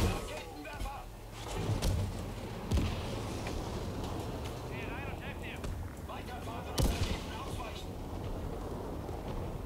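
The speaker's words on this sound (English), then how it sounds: "Rocket launches." Rocket launches and blasts in Battlefield V combat, with sharp explosive bursts around two, three and seven seconds over a dense, steady rumble of battlefield noise, with a player talking throughout.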